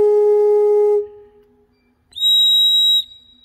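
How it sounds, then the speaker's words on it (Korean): A small mixture pipe from a pipe organ sounds twice: first a steady, pure, flute-like tone lasting about a second, then after a pause a higher, bright whistle-like tone of similar length, both clear and isolated. "이렇게 작은 파이프. 이거는 믹스처 중에 하나인데요."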